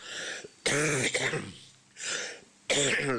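Several harsh throat-clearing coughs in bursts, close and loud, separated by short pauses with a brief murmur of voice between them.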